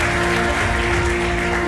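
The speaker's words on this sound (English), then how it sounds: "Applause" Graduation ceremony audience applauding a master's graduate: dense, even clapping from a large crowd, continuous and fairly loud throughout, with a faint tonal hum underneath.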